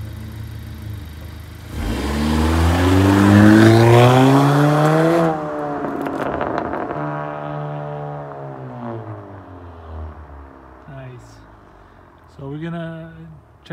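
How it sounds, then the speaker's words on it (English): A 2019–2020 Honda Accord Sport 1.5T, before an upper torque mount is installed, revs hard and loud for a few seconds with a rising engine pitch. The engine then settles to a steadier drone, and a brief rev follows near the end. "We're checking for the wheel hop, guys. This is before we install the torque mount."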